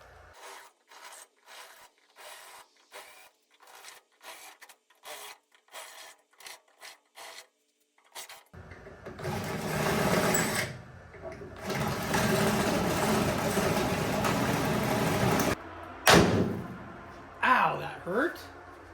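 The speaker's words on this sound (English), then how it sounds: "I'm going to grab a larger drill bit" Short rhythmic scraping strokes give way to a sustained grinding whir of a larger drill bit boring into the rear quarter panel of a 1956 Chevy wagon, steady for several seconds, then brief clatter.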